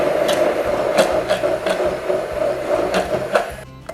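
An electric blender whirs through lemon juice, vinegar, salt and sunflower oil, a loud steady motor hum with a rhythmic low churning pulse that cuts off near the end.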